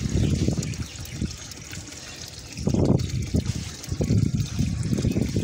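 Water pours into a shallow dish set out for ringneck parrots in summer heat, splashing and gurgling in uneven bursts, close and fairly loud, with brief pauses between pours.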